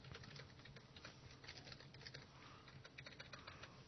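Quiet, rapid typing on a computer keyboard during a C++ programming session, a continuous patter of light key clicks with short irregular bursts, faint and steady throughout, no voices.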